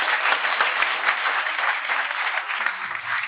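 An audience at a lecture applauding participants after a live experiment: a dense, steady wash of many hands clapping together, sustained evenly throughout.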